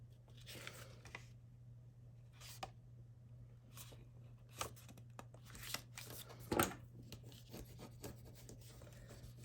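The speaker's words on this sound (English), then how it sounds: "And you can burnish it." Paper flap on a fabric-covered mini album page being burnished, a series of short soft rubbing strokes, close and quiet over a steady low hum, with no talking.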